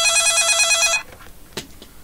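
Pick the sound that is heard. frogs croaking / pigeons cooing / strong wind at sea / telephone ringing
telephone ringing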